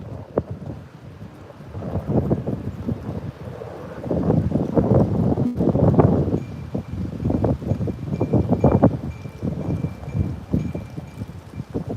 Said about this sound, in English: it's really, really windy